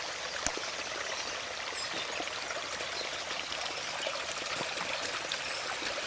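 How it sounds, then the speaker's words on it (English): Storm water runoff rushing turbulently off a field toward a roadside pipe, a steady broadband hiss and gurgle of flowing water, fairly faint and continuous with no talk. "and hear the water as it becomes more turbulent"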